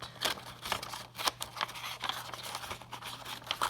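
Scissors snip through paper in a quiet, irregular series of short crisp cuts against a low background hum, while making a gratitude box.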